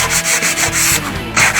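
Waterproof sandpaper rubs back and forth over a car's right fender during wet sanding of the paint, giving loud, close, rhythmic strokes with about seven quick passes.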